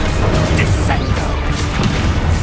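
A Descendo spell slams down in the Hogwarts Legacy game with a loud, booming crash that sits inside a dense, continuous wash of game noise for the whole stretch.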